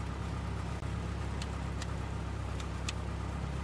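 A simulated Cessna 172R engine idles at 1000 RPM in the FSX flight simulator, a steady, even low drone that holds without change, with a few faint clicks on top.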